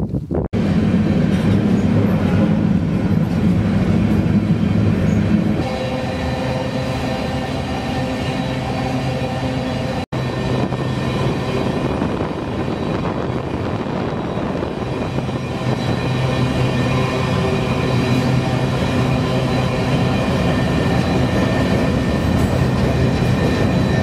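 Freight train rolling steadily while trainhopping through the American West, a continuous loud rumble of wheels and cars with faint rhythmic clatter, close and unbroken throughout, no voices.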